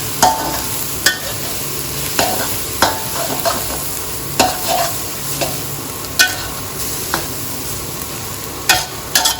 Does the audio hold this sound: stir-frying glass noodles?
yes